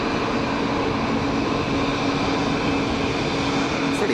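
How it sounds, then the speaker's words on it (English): A KLM Embraer jet flaring steeply on landing approach at Geneva Airport, its engines giving a steady, loud broadband roar that holds evenly throughout with no voices. "high alpha flare from the inbound KLM Embraer"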